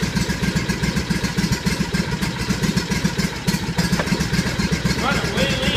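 Motorcycle engine idling rough and lean after a cold start at about 10 degrees, a steady close low pulsing that runs unbroken throughout.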